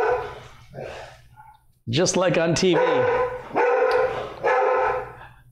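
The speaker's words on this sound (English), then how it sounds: "Dogs." Dogs bark indoors during a home motherboard replacement, a quick burst of several loud, close barks, then people talking over the room.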